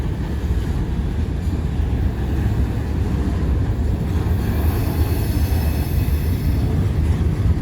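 A Norfolk Southern freight train hauling high-top coke cars rolls past close by with a loud, continuous rumble and clatter of wheels on track, and a faint metallic squeal rides above it throughout.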